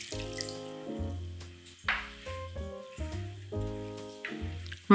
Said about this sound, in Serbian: Sipam zatim 200 ml vode